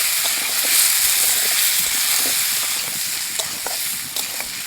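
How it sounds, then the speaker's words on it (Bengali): Mixed vegetables, half-fried with salt and turmeric, sizzling in a pan: a steady close crackle with scattered sharper pops and occasional stirring, no voices over it. "সবজি অর্ধেক ভাজা হয়ে গেছে,"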